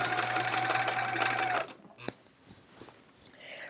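A sewing machine stitches a seam on a chevron quilt with a steady, close, whirring run for about a second and a half, then stops, followed by a single sharp click and quiet handling noises.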